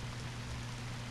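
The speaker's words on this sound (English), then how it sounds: "It's raining cats and dogs." Steady rain falls in the video game Radiant Historia, a soft continuous hiss with a low droning hum beneath, unbroken and moderately quiet through the short stretch.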